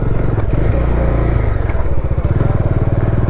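A Bajaj Dominar motorcycle engine drones steadily in second gear while riding over a stony road, with a continuous low throb and rattling clatter from the rough surface throughout.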